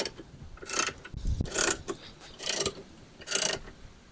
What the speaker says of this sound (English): And now I'll stick the ratchet on there.